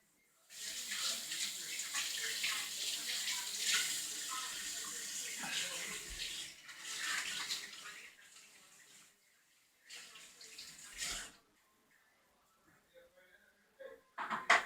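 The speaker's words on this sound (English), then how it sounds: "let me wash my hands and I'll be right back" Running water from a sink tap splashes steadily over hands being washed, close by, for about ten seconds, then stops; a brief second burst follows, ending with clatter.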